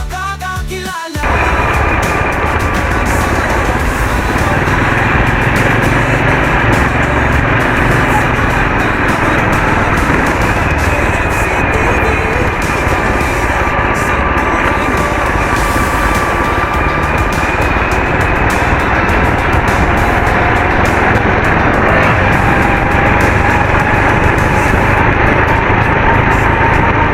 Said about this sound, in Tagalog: Na yung motor.